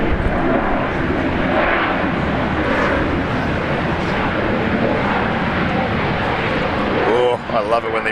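A loud, roaring jet engine surge as a landing aircraft uses reverse thrust at Brisbane Airport fills the air with broadband rumble and hiss, steady for several seconds before a voice begins near the end.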